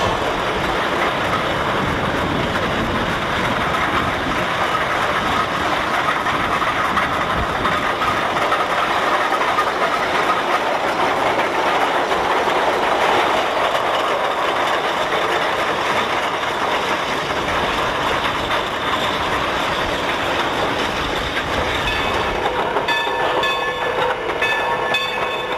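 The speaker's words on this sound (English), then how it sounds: "The No. 2 adds an extra car to its train, making for a 5-car consist for this trip from Fassler to Chinese and back." Sierra Railroad No. 2, a 1922 Lima three-truck Shay steam locomotive, hauling a five-car train, heard as a continuous loud rumble and rattle of rolling cars without talking.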